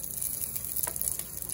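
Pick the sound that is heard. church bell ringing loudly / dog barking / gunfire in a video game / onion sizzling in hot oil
onion sizzling in hot oil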